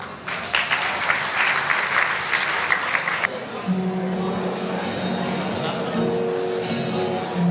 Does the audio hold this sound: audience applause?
yes